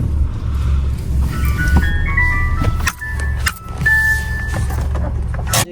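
A vehicle at a Punjabi village farmstead runs close and loud, its engine rumbling and surging with beeping tones, clicks and a jangle of keys over the idle.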